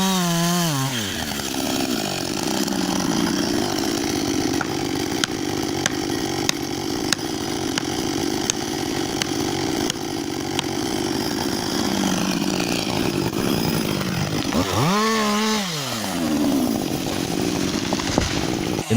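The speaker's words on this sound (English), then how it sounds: "then started the chainsaw. The sound was loud. Each cut was decisive. The saw blade was deeply cut into the solid wood." A chainsaw, run by a worker in a forest, cuts deep into a huge solid tree trunk. Its engine drones loud and steady under load, revving up sharply at the start and again midway between cuts.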